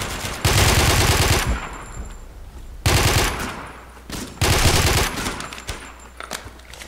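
Three long bursts of rapid automatic fire from an AUG rifle in the shooter game Warmode, loud and close, separated by short pauses with faint shell and movement noises.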